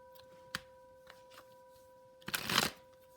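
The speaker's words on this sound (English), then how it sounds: "I'm just going to shuffle a few more times." A few soft taps of tarot cards are followed by one quick, crisp riffle shuffle of the deck, close and clear against a faint steady hum.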